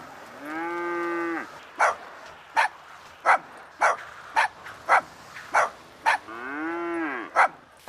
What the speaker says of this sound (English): A cow? Oh, it's a land one. Thought it was a sea one.